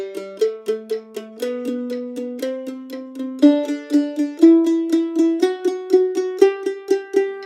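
A mandolin plays a scale in constant eighth notes with steady, even pick strokes, each note clearly plucked in an unbroken rhythm, moving gradually up in pitch, close and alone.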